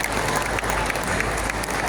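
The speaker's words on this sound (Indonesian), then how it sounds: "Nah, tepuk tangan dulu. Dikit-dikit aja." Light applause from a classroom audience at an Islamic boarding school lesson, a steady patter of many clapping hands lasting about two seconds without a break.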